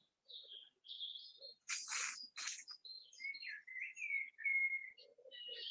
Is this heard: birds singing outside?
yes